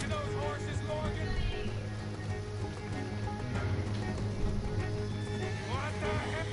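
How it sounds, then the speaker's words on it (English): Horses in the Red Dead Redemption 2 video game whinny and neigh over steady clip-clopping hooves, set against an ongoing game soundscape of ambient noise and shifting tones. "Let's get to those horses, Morgan."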